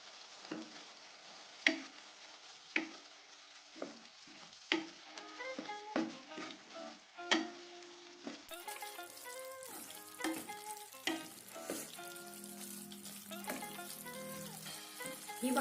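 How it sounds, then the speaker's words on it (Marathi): Crushed roasted peanuts being stirred into a pan of green bean curry, with a soft sizzle of frying under repeated scraping and tapping of a spoon against the pan, close and moderately quiet. "आता मी भाजून घेतलेले शेंगदाण्याचं कूट केलेलं आहे ते टाकते. व्यवस्थित मिक्स करून घ्यायचं."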